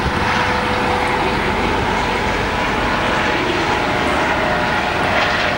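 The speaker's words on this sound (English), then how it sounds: "Hey, that's the helicopter." An aircraft engine roars steadily overhead near Ellis Island, New York, a loud continuous rumble that holds constant throughout with no talk over it.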